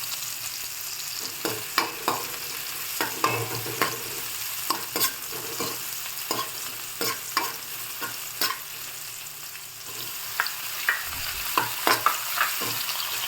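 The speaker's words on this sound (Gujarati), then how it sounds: "ધીમે ધીમે સંતળાવા લાગ્યું છે ટમેટાં અને ડુંગળી." Crushed tomatoes and onion sauté in a pan for a stuffed brinjal gravy curry, a steady hissing sizzle broken by frequent sharp taps and scrapes from a stirring spoon, close and continuous.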